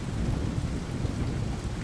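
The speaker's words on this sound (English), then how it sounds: "The rain is still falling as I finish writing this. I can hear it on the roof." Rain drumming steadily on a roof, a dense unbroken patter with low rumble beneath, even and moderately loud, no speech.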